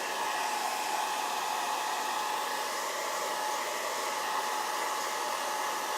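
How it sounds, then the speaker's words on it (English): A hair dryer on its cool setting blows steadily, a constant loud whooshing hum that never changes pitch or volume. "I'm just gonna use cool setting with the hair dryer again"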